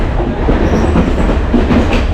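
Steady rumble of a train rolling along the rails, with a continuous low clatter and no voices.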